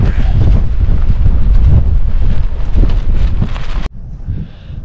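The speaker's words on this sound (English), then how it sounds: "Really windy." Strong wind on Hen Mountain buffets the microphone at a wild campsite in a loud, continuous roar, then drops abruptly to a quieter gusting rush near the end.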